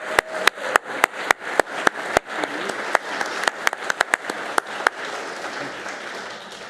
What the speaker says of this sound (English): they really deserve another round of applause